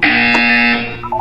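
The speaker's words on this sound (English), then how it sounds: "You will hear a buzzer." A loud electronic buzzer from the Portal 2 video game sounds in one steady harsh tone close up, then cuts off and fades into a brief quieter tone.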